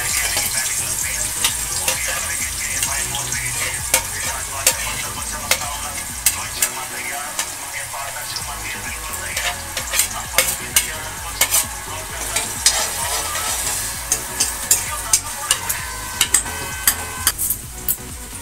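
Chopped onions fry and sizzle in a pan for an Indian aloo gajar curry while a spoon scrapes and stirs in repeated sharp clicks, steady loud crackling throughout.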